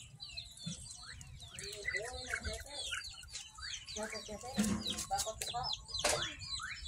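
Chickens cluck and squawk repeatedly nearby in a busy, irregular chorus, with people talking intermittently in the background.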